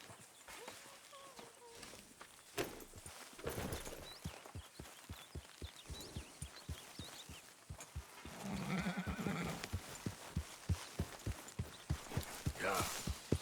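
In Red Dead Redemption 2, a horse neighs and whinnies several times over a steady run of clip-clopping hooves. Close, rhythmic hoofbeats carry through the whole stretch, with brief game voices in the background.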